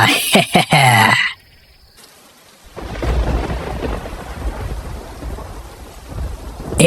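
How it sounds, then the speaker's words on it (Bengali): A cartoon thunderstorm with heavy rain: a brief voice is followed by a moment of quiet, then a rumble of thunder and a steady, loud downpour that fills the rest. "এই যা, বৃষ্টি যে চলে আসছে"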